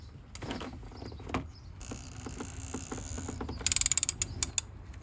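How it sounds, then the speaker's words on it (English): A 1/2-inch ratchet with a 27mm socket on an 8-inch extension turns counterclockwise to loosen the oil filter housing on a 2015-2021 Mercedes C-Class W205 M274 engine, with creaking and mechanical clunks followed by a quick, close burst of ratchet clicks. "this is a 1/2 inch ratchet. Turning counterclockwise."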